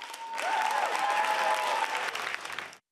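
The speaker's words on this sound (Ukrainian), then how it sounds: "Зал взрывается овациями." A concert hall audience bursts into sustained applause for a folk ensemble, a dense roar of clapping swelling in quickly, holding steady for a couple of seconds, then cutting off.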